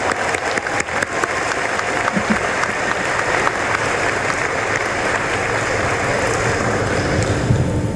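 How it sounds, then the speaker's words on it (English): Loud, continuous applause fills a graduation ceremony hall as the audience claps for a student's speech, a dense even roar of many hands that carries on without pause. "Let's give Tennyson a round of applause for that excellent speech."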